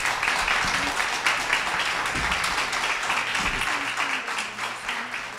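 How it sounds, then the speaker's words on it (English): A community parent forum audience applauds the panel with steady, continuous clapping throughout, while low voices and murmuring talk are heard underneath. "Can we give the panel a round of applause"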